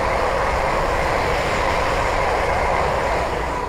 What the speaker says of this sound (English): the first train to pass by is a pair of London or Western Railway Class 350s